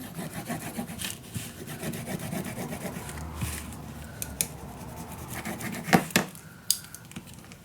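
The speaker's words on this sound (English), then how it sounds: "Glue this on the back of your frame. Burnish it down." Glued paper being burnished down onto the back of a small handmade scrapbook mini album frame, a steady close rubbing and scraping with a few sharper knocks near the end, no talking.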